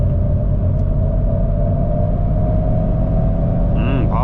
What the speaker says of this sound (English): The 2026 model Mercedes-Benz CLA. Yeah, it has got some really interesting and impressive sounds when you drive it.